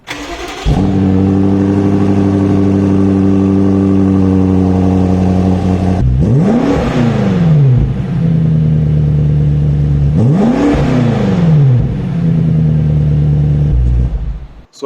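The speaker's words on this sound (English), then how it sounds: "I hope you heard the sound of the engine" A 2021 BMW X6 M Competition engine idling steadily, then revved hard twice in sweeping rises and falls, loud and close, with no voices.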